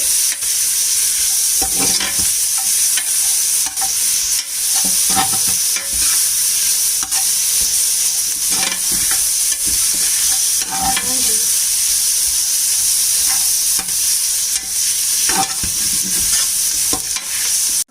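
Egg biryani ingredients sautéed in a pressure cooker, with a steady loud sizzle throughout and repeated scraping stir strokes of a spatula, no talking.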